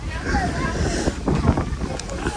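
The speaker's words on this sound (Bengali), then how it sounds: "খুবই সুন্দর বাতাস উড়াই নিয়ে যাচ্ছে একদম" Strong wind buffeting on the bank of the Padma river, a steady roaring rush with gusts against the microphone, with a voice talking underneath.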